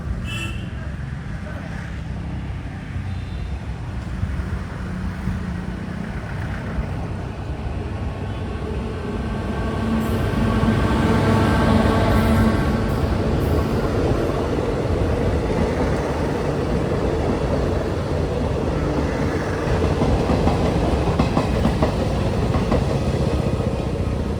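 The Kannur Intercity train passes beneath a road bridge at Vadakara railway station, a sustained low rumble of wheels and carriages that swells midway and carries on steadily, heard from above the tracks.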